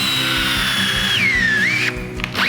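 A Festool T-18 cordless drill drives a long screw into wooden end grain, a loud close motor whine that drops in pitch as the screw bites, then stops abruptly with a short final whir.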